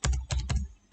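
A file name being typed on a computer keyboard: three quick, close keystroke clicks in an uneven rhythm, then a fourth click at the end.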